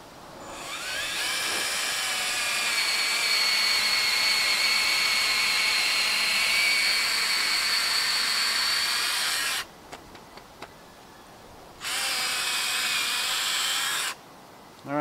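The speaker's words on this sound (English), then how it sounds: "I'm gonna auger a tree." A power auger bores a tap hole into a maple tree, a loud sustained high-pitched whine for about ten seconds, then a short stop and a second burst of drilling near the end.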